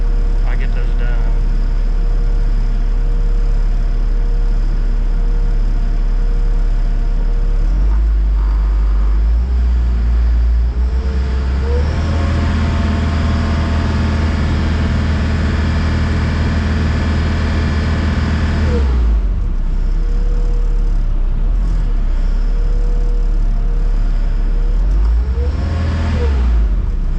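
The diesel engine of a Bobcat T770 skid steer, freshly fitted with new injectors, idles loudly up close, then revs up and drops back twice, briefly stumbling as it climbs, with someone talking over it.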